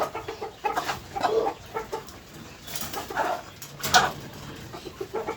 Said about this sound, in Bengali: তো আমরা এখন এই মুরগিগুলো এখান থেকে বের করার চেষ্টা করব।